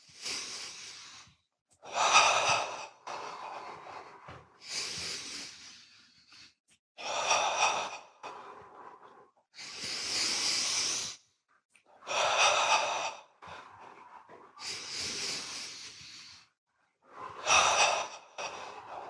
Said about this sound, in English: Notice his breath is getting longer because that's what happens.